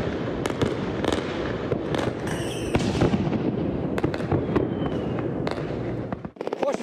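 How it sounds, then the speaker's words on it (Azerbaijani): New Year fireworks burst over Baku in a dense run of booming blasts and sharp crackling pops, loud and continuous, echoing across the city sky. "Həmrəyliyi günü ve Yeni İl bayramı münasibetiyle mühteşem bayram ateşfəşanlığı oldu."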